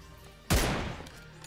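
A suppressed AWM bolt-action sniper rifle fires once in PUBG Mobile, a single sharp loud blast with a booming low tail that fades over about a second, with no talk.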